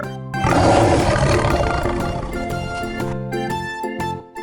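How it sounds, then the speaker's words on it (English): A lion's roar sound effect in a children's nursery rhyme: one loud, rough, sustained roar that fades as bright musical tones take over near the end. "L is for lion, roar."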